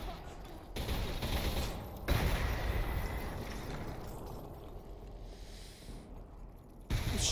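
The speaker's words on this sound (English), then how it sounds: "Shit's still exploding." Explosions and gunfire in a parking garage level of the Selaco shooter game, sustained rumbling blasts and rapid shots with sharp loud onsets, fading briefly near the end before another hit.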